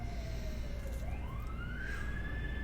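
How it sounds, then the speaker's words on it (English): An emergency vehicle siren wails with a rising and falling pitch against a steady low traffic rumble, loud and continuous, with no voices. "Cue siren."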